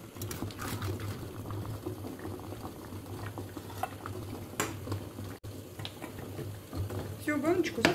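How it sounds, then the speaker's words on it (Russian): A mixture left simmering on low heat on the stove while being ladled into jars, giving a steady soft bubbling with faint clinks and stirring noises at close range. "Огонь мы не выключаем. Пусть он у вас потихонечку булькает."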